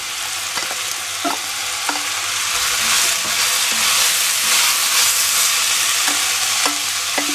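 Steady sizzling of carrots and other vegetables frying in a pan, with occasional scraping stirs and clinks throughout, close and loud.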